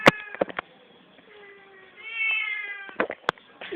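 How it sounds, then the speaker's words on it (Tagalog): Two or more cats meow close by during a trip: a couple of short cries at the start, then a long, drawn-out wail that rises in the middle, followed by a few more quick, sharp calls near the end. "Nakakatakot yung pusa dito. Dalawa ang pusa."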